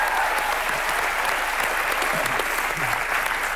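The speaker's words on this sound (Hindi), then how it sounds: "इनके लिए तालियां बनती हैं." Studio audience on an Indian TV comedy show breaking into steady, loud applause that fills the whole stretch without a pause.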